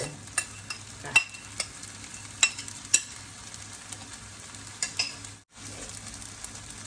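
Fried rice with chicken, egg and mixed vegetables (carrot, corn, peas) is stir-fried in a pan. A steady sizzle runs under repeated sharp spatula scrapes and taps, with a brief break near the middle.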